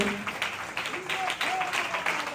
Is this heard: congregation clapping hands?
yes